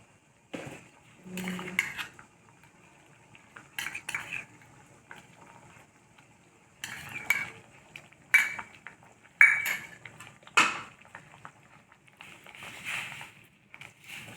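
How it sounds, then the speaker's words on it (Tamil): Spoon stirring milk powder into jeera rice in a metal pot, with scattered scraping clinks and knocks against the pot coming in short irregular bursts amid quiet gaps, close and moderately loud. "பால் போட்டு சேர்த்துட்டு நல்லா கலக்கி கொடுத்துடலாம்"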